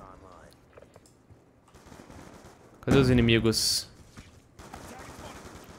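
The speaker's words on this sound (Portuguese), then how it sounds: "Tô tomando vários tiros aqui" Gunfire in Black Ops 2, a video game: a loud burst of rapid shots in the middle, with quieter game sounds around it and someone speaking Portuguese over it.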